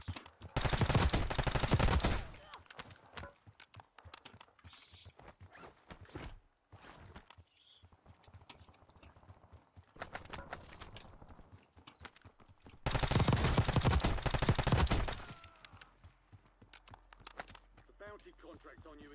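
Call of Duty Warzone gunfire in solo play: two loud sustained bursts of rapid automatic fire, one at the start and another near the end, with quieter game sounds and someone talking in between.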